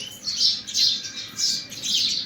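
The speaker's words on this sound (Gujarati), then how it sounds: "અમારે ઘરે ચકલા બહુ" Sparrows at a house chirp in four bright, close bursts that come in a loose rhythm, each swelling and fading, heard alone over a quiet background.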